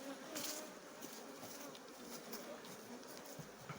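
Honeybees buzz in a dense, steady swarm at the entrance of a hive on a 10-frame colony, a continuous close drone with individual bees passing near.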